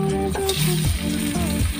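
Buttered garlic shrimp frying in a pan, a loud, close sizzle with crackling bursts, overlaid by a series of tonal, pitch-sliding squeaks that rise and fall.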